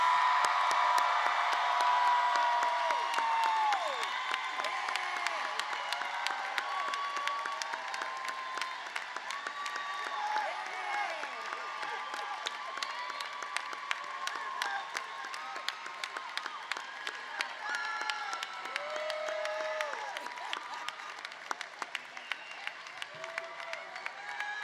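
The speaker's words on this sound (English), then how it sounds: "We got a zealous crowd tonight." Graduation ceremony crowd applauding and cheering right after the new graduates turn their tassels, with dense sustained clapping and scattered whoops throughout, loud and even, gradually easing slightly toward the end.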